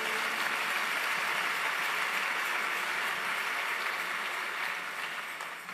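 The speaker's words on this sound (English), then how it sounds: "Oh, if you want to clap, do it well." A congregation at a burial service claps in a loud, dense, sustained wash of applause that holds steady and then eases off slightly at the end.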